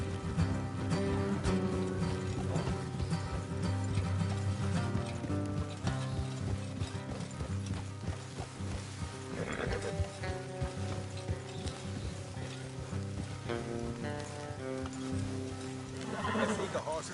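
Horses in Red Dead Redemption 2 neigh and whinny over rhythmic hoof clip-clop while travelling along a road, layered with steady game music and voices talking.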